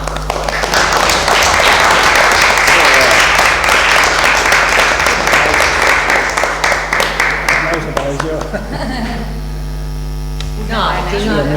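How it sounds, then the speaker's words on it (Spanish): An audience at a talk breaks into loud, dense applause over a strong electrical hum, clapping fading after about eight seconds as voices take over. "aplaudimos porque es el primer"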